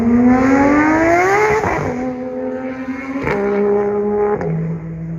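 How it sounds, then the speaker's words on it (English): A Porsche flat-six engine revs hard as the car pulls away, its loud, rising exhaust note stepping through several gear changes and fading slightly into the distance. "That flat six sounds absolutely amazing."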